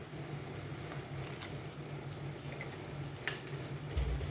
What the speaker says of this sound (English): I'm just going to be adding a little bit of water.